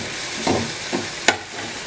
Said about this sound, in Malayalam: ഉള്ളി ഒന്ന് പെട്ടെന്ന് മുരിഞ്ഞ് വന്നോട്ടെ കേട്ടോ.